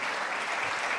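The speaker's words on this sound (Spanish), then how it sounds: "Demos un fuerte aplauso al Señor en esta tarde." Church congregation applauding the Lord during an afternoon service, a steady dense wash of clapping from many hands.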